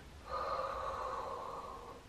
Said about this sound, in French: On y va, on inspire.